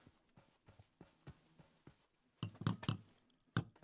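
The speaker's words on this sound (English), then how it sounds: "Now we're gonna get glass. We're gonna put glass there." Glass blocks are placed one after another in a block-building video game, giving a series of soft, quick clicks that turn into louder, denser clinking taps toward the end.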